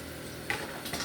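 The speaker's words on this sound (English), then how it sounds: "we're going to saute the onions until they're translucent" Onions sautéing in a pan at home, a faint, steady sizzle with a few brief stirring clinks and scrapes near the middle and end.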